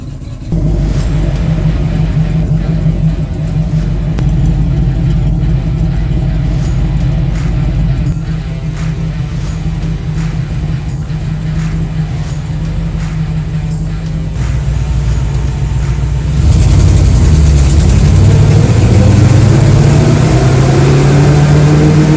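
A 1979 Camaro engine runs steadily at a loud idle with a squealing belt under the hood and a slight exhaust leak at the collector, then the engine note swells near the end. No one speaks.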